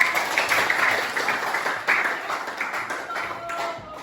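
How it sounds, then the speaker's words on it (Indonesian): A small group claps at a school teachers' group presentation, a brief patter of uneven hands that rises and thins out over a few seconds, with faint background murmur. "Oke, tepuk tangan."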